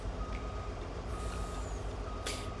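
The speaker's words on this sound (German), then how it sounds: "Unser guter Steine-LKW." A stone-hauling truck in Farming Simulator 19, on an Alaska gold-mining map, sounds steady reversing beeps over a constant engine drone, with a brief hiss near the end and no talking.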